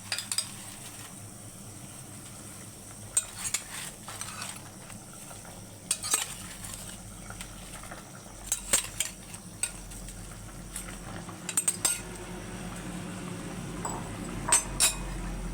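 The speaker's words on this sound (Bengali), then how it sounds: "এবার আমি কোপ্তাগুলো দিয়ে দেবো ছেড়ে দেবো" Raw banana koftas dropped into a pot of boiling gravy and stirred, with a steady bubbling simmer under repeated clinks and scrapes of a spoon against the pot, close and moderately loud.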